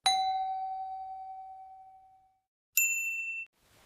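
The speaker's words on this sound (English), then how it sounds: "I ring the bell." A bright bell dings once and rings out for about two seconds, then a second, higher and shorter ding follows, clear and alone in quiet surroundings.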